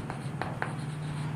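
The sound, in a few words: writing a solution on paper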